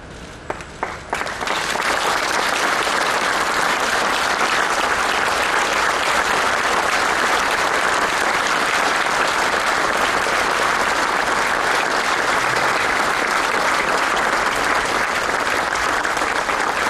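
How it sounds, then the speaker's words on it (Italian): A large crowd gathered outside a family house on Via Piave in Cosenza applauds as a coffin is carried out, loud, dense and sustained clapping that starts with a few scattered claps and holds steady throughout. "suo applauso accompagna l'uscita del feretro dalla casa che l'ha vista crescere in via Piave a Cosenza"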